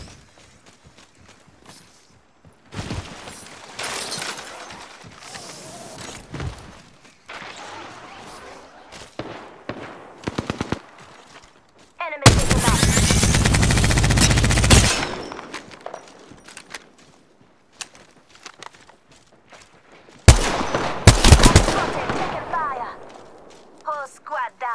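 Bursts of video game gunfire in a battle royale match, loud dense volleys around the middle and again near the end, with quieter shots and movement between them and a player's voice talking throughout.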